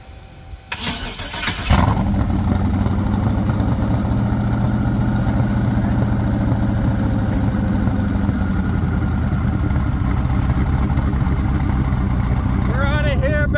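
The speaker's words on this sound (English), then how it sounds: "So we're going to fire her up and see if it starts." A 1000+ horsepower street car engine cranks briefly, catches with a loud roar, then settles into a heavy, steady idle that stays loud and close for the rest of the clip, at a street machine show.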